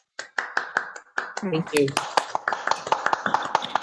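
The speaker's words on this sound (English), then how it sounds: "please come off mute and give Bina a big round of applause for her presentation this evening" Online audience applause on a video call, scattered uneven claps and taps from several people, some sharp and close, mixed with brief spoken thanks.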